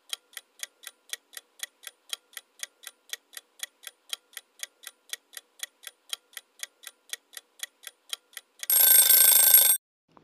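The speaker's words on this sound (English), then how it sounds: "Ippudu mee timer start avutundi." A quiz countdown timer ticks in a crisp, evenly spaced series of about thirty clicks, then a loud buzzing alarm sounds for roughly a second at the end.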